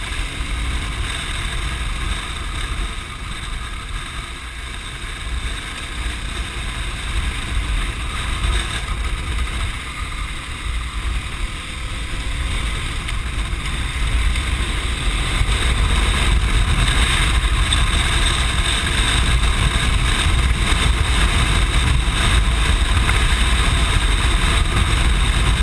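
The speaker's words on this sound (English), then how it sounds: "enjoy the views and the sound of the motorcycle ripping through the forest" A KTM 1090 Adventure R motorcycle drones steadily along a forest service road, with a low rumble and broad wind-like noise that swells slightly louder partway through.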